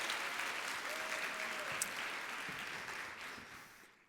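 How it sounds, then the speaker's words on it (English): An audience applauds at a keynote event in a hotel, sustained clapping that stays fairly even and then slowly tapers off. "Let's give them a huge applause for this brilliant event."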